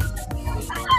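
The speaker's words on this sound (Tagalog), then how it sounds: "Mga dala ni Boss Pao ngayon na manok" Gamefowl chickens clucking at a booth at a gamefowl expo, a few short close clucks over a low background murmur of the venue.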